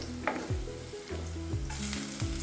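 Fennel seeds and garlic sauté in a hot pan with a steady close sizzle, broken by rhythmic scraping strokes as the mix is stirred.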